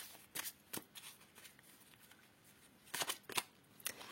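Tarot cards shuffled for an evening card reading, with quick papery riffles and flicks in short bursts, a few clustered near the end, fairly close and alone without talk.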